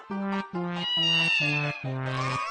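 Human voices imitate a cat, giving five distinct drawn-out meows in quick succession, each nasal and clearly voiced, loud and close with brief gaps between them.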